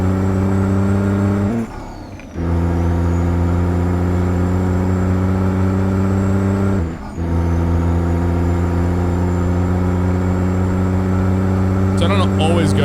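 A CAT C-15 engine in a Peterbilt 389 truck in a driving video game hums loudly and steadily, dropping briefly twice as gears change, then resuming its even drone.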